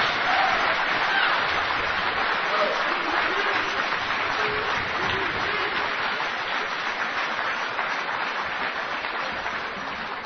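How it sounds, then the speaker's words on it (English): Convention audience breaks into a big, sustained round of applause, a loud, continuous roar of many hands clapping that holds steady for about ten seconds with faint crowd noise mixed in. "Why don't y'all celebrate yourselves and your work right now with a great big round of applause."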